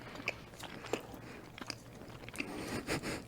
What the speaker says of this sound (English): Chewing noises.